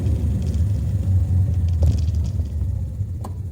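A Honda Navi motorbike cruising on Deerfoot, a Calgary highway, gives a steady, loud low rumble of engine and road noise with wind wash, unbroken for the whole stretch.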